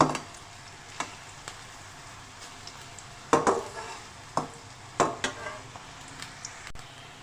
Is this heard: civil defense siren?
no